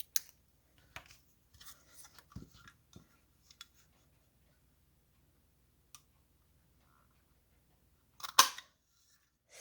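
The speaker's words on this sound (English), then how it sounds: "I'm going to take my banner punch." Several faint, sparse clicks from a paper-crafting banner punch lead up to one sharp, louder snip near the end as it cuts the end of a strip of paper. The room is otherwise quiet.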